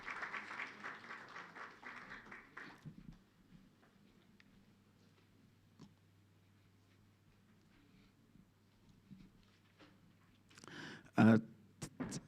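Audience at a round table discussion applauding, a spread of clapping that fades out after a few seconds, then a quiet stretch and a short sharp burst near the end.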